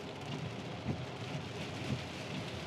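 Rain pours onto a Tesla driving on Full Self-Driving Beta 10.3.1, a dense steady patter on the car body with a low road rumble and a few soft thumps of heavier drops.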